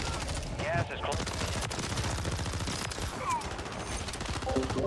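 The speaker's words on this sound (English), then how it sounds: "Oh, my own teammate's shooting now, bro." A teammate's assault rifle fires in sustained rapid bursts in Call of Duty on Rebirth Island, loud and close, layered with other game sounds and a voice talking over it.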